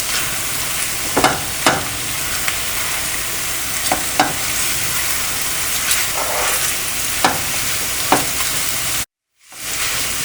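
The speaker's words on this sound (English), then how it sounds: "now we're roasting it on our frying pan with the oil." Mashed rohu fish sizzles and crackles steadily in hot oil in a frying pan, with intermittent scraping and stirring sounds and a brief silence near the end.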